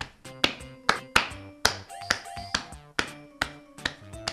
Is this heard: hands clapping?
yes